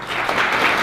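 Brief burst of audience clapping at a school board meeting as students are named, dense and steady for under a second.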